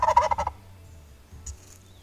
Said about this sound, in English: They also had videos of a single tom working that plot during the midday and gobbling.